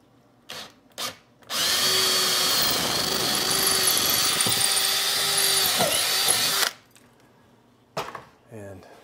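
A drill bit bores through a clamped wooden stile backed by a board, one loud steady run of about five seconds, with a few short knocks before and after.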